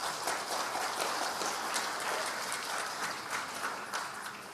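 Audience applause at a question-and-answer session between a presidential candidate and business owners, a steady dense wash of many hands clapping, moderately loud and continuous throughout with no speech over it.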